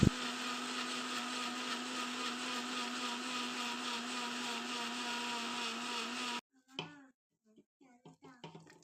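A mixer grinder blends beetroot with sugar, cardamom and water, a loud steady whirring drone running for about six seconds before cutting off abruptly, followed by a few faint clinks and handling noises.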